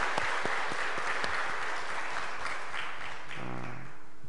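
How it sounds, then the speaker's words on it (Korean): A church congregation at a Sunday worship service applauds, a dense, steady wash of clapping from many hands that holds evenly throughout, with a faint tonal hum entering near the end. "우리 승리하신 어머님께 박수 한번 보내드리도록 하겠습니다"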